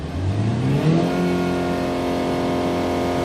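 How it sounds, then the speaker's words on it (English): A diesel engine in a 2007 Kia Sorento SUV with automatic transmission revs up, its pitch climbing steadily over a few seconds before holding at a higher, droning hum; heard from inside the vehicle. "we accelerate, check the sound of the engine and the RPMs movement here"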